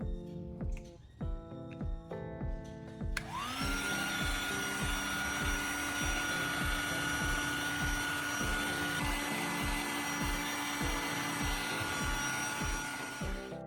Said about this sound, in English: I'll use a heat gun to warm it up